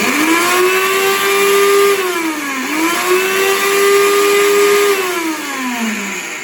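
Silver Crest 2-in-1 juicer blender with a 2.5-litre jug running on its pulse setting: a loud, close motor whine that rises and dips in pitch in repeated surges, with no talk.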